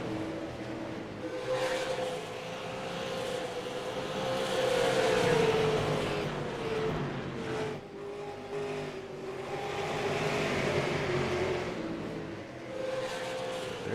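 Super late model race cars roar around 5 Flags Speedway in the iRacing sim, engine notes rising and falling as they pass, a steady pack drone swelling louder midway and fading.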